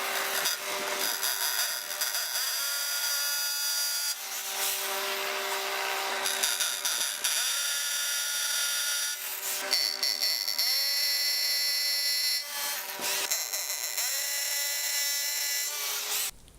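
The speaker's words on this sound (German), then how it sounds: "Als nächstes bohren." A hammer drill bores holes for mounting a chimney extension, a loud, continuous grinding whine that runs steadily for the whole stretch with a few brief pauses and pitch shifts.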